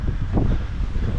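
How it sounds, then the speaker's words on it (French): Strong wind buffets the microphone on a hilly hiking trail in Mauritius, a steady close roar of gusts with no talk. "Beaucoup de vent, les gars."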